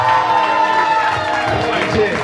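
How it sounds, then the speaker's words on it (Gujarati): A crowd at a Gujarati Lok Dayro folk program claps and cheers loudly, with voices mixed into the roar. "એકવાર જોરદાર તાળીઓના ગડગડાટ."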